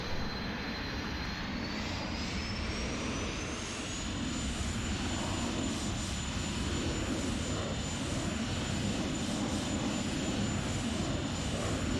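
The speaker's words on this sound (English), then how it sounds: "You got to spend money on F-16s at Afterburner over Huntington Beach." Steady, loud roar of an F-16 jet engine on afterburner in the X-Plane 11 flight simulator over Huntington Beach, a constant broadband rush with a faint rising whine and no voices.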